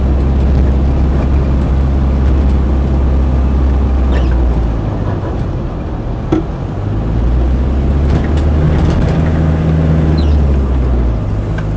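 Land Rover 90 hardtop with original spec on the move, a steady low engine drone and road rumble running throughout at constant level, with no voices.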